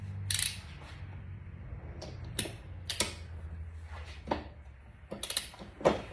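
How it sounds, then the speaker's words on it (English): Special four-tongue socket turning the loose neck bearing on a Honda Goldwing motorcycle, a series of quiet metallic clicks and ratcheting ticks spaced irregularly against a low background hum. "This is a special socket that's specific for the neck bearing."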